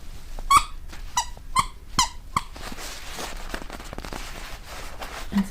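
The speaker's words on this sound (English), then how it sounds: "Of course, it has a squeaky in there." The squeaker inside a plush star dog toy gives about five sharp squeaks in quick, fairly even succession, close and clear, before the sound falls quiet.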